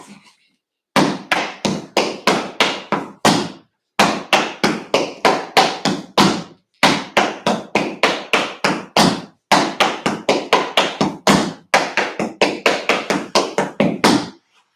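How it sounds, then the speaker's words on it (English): Tap shoes striking a hard floor in rapid bursts of back flap heel and paradiddle steps, crisp close taps in repeated rhythmic phrases separated by brief pauses. "So, back flap heel, paradiddle, 4-note riff out."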